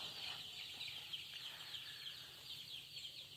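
Young Sonali breed chicks chirp continuously in a faint, high, busy chorus, as if heard from a short distance in a quiet brooding space, with no one talking.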